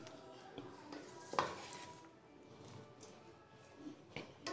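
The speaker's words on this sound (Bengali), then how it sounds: "এবার একটা খুন্তির সাহায্যে আমি ধীরে ধীরে সমস্ত রাইসটা মিশিয়ে নেব।" A spatula slowly mixing fried rice in a pan, producing soft scattered scrapes and light metallic clinks, faint and intermittent with a sharper clack near the start.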